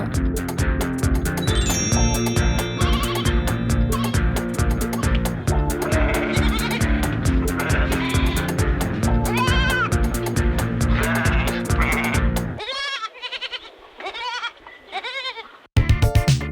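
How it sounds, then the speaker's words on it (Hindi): A cartoon lamb bleats in a children's nursery-rhyme setting around Baa Baa Black Sheep, with a lamb hatching from a magical egg; bouncy music plays throughout, then several wavering bleats stand out near the end. "ये बच्चों, भेड़ के बच्चे को कहते हैं मेमना।"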